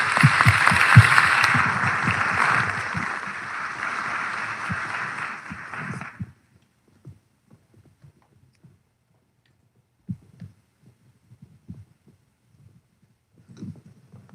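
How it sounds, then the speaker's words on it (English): An audience at a faith-based round table event with Florida's First Lady gives the panelists a round of applause: dense, loud clapping that gradually thins and then stops abruptly, leaving near-silence with a few faint scattered noises. "I'd like to give them a round of applause"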